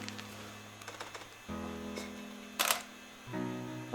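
Shutter of a camera fired through a modified release wired as a PocketWizard pretrigger cable: soft focus whirs, then a sharp mechanical click and clack, close and isolated against quiet electronic hum.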